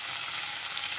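Onions sizzle steadily in a hot pan as tomatoes go in for a chicken dum biryani, a dense, even frying hiss lasting about a second with no voices.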